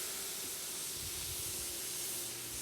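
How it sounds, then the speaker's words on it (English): A residential lawn sprinkler system sprays water across a yard, a continuous broad hiss of spray with a soft rumbling underneath, steady and fairly close throughout. "So they just spray for a little while there."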